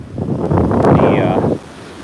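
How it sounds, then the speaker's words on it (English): Ocean waves break on Coney Island beach at sunset while wind buffets the microphone, a loud, close surge of rushing noise that swells and then drops off after about a second and a half. "The foam is off the waves."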